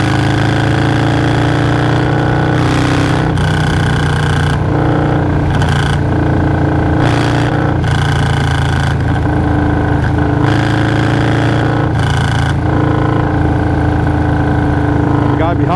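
Motorcycle engine droning loudly while riding fast at night, a steady close roar with repeated swells as the throttle opens and eases off.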